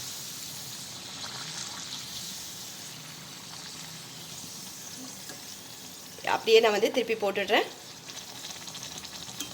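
Oil sizzles and bubbles steadily as tomato puri deep-fries, with a louder burst of crackling frying in the middle; a voice speaks quietly over it.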